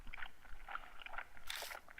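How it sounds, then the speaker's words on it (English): Faint wet chewing and smacking, like gum being chewed, comes through a telephone line in the horror game Death Mark, soft irregular clicks with one brief louder scrape. "I hear a noise like someone chewing gum from the other end of the phone."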